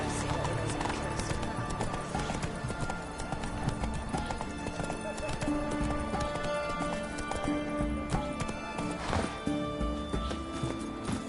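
A horse galloping in The Witcher 3 video game, steady close clip-clop hoofbeats and occasional whinnies over constant game music and ambience, with voices talking throughout.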